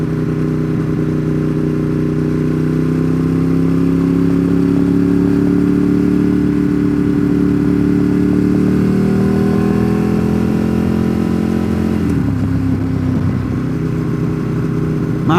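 A motorcycle engine drones steadily while riding on a warming road trip through the Smoky Mountains, loud and close, holding an even pitch with a slight rise before a shift near the end.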